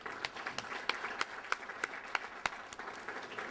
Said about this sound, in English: right now, a round of applause.